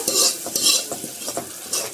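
A tempering for gongura dal sizzling and crackling in hot oil, close and continuous, with bursts of spattering and the scrape of stirring.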